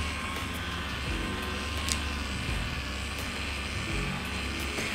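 A VIBRAPULSAR CS-V7 vibration massager runs at its lowest speed, giving a steady, continuous droning hum that stays even and unbroken from start to finish, heard alone with no talk.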